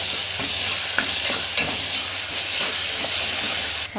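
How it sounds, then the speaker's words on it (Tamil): Tomato with ginger garlic paste sautés in a pan for chicken kulambu, giving a loud, even sizzle with soft scraping strokes from stirring throughout and no voices. "பச்சை வாடை போகிற அளவுக்கு நல்லா வதக்கி விட்டுக்கோங்க."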